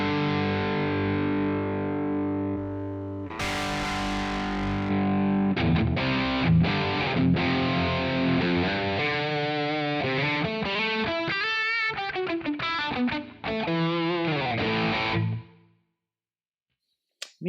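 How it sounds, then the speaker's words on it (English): Distorted electric guitar through a Super Jack amp capture on a Quad Cortex, played alone: sustained chords give way to a brighter, busier riffing passage with rapid picked notes before ringing out and cutting to silence near the end. "Oh, another super jack. Very quiet super jack."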